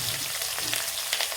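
Close, steady sizzle of chopped onions frying in hot oil with mustard seeds, cumin and curry leaves, with faint stirring crackles throughout.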